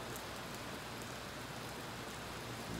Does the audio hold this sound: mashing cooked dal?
no